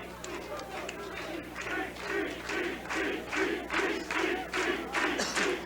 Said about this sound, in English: the fans are in constant clapping mode here tonight